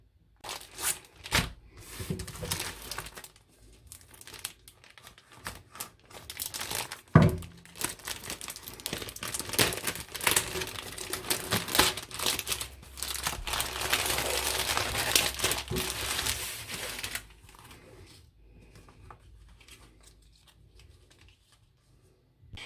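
A cross-stitch kit's plastic package is opened up close, with bursts of crinkling and crackling plastic that start and stop irregularly, grow denser through the middle and then fade to quiet rustles.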